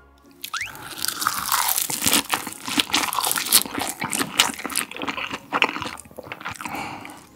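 Close, crisp chewing of deep-sea shrimp sashimi with rice, with steady crunchy bites and wet mastication continuing for several seconds and no talking.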